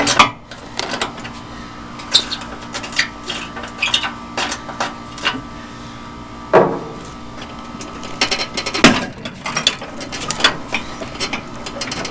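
Socket ratchet turning a 9/16 bolt to drop the mandrel/spindle on a Murray mower deck, a cracked part: scattered clicking bursts and sharp metallic knocks over a low steady background hum, close and moderately loud, no talk.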